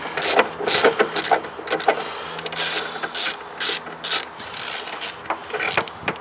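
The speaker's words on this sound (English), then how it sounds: "grab a 10mm socket on a ratchet, and then go ahead," A hand ratchet with a 10mm socket loosening a bolt on a car: bursts of quick, sharp clicking from the pawl, repeated in short runs with brief pauses, loud and close.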